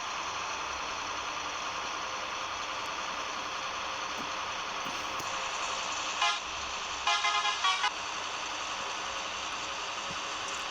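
A bus horn in a Kerala bus simulator game sounds twice, a short toot then a longer blast of several quick pulses, loud over a steady engine drone.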